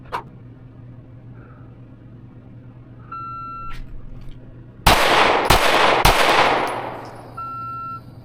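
A Fusion Firearms XF Pro pistol fires during a Psalms 144 shooting drill: electronic timer beeps come first, then three loud, sharp shots in quick succession, each leaving a short ringing tail, with a final beep afterward.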